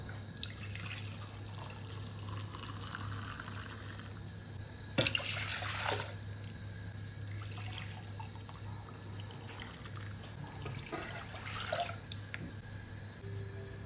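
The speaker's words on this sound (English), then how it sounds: "I poured the milk into my mug and back 3 times from an achievable distance to make the milk frothy" Milk for turmeric golden milk is poured from a mug and back three times from a height to froth it, making faint, soft trickling and splashing pours against quiet background hum.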